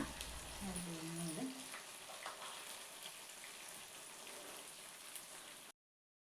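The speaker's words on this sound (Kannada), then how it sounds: "ಇವಾಗ ಒಂದು ಸೈಡ್ ಫ್ರೈ ಆಗಿದೆ, ಮೆಲ್ಲಗೆ ಇನ್ನೊಂದು ಸೈಡನ್ನು ಫ್ರೈ ಮಾಡ್ಕೊಳ್ಳೋಣ" Paneer frying in a pan for biryani, a faint, steady crackling sizzle that runs throughout, with a brief voice-like tone near the start before the sound cuts off abruptly.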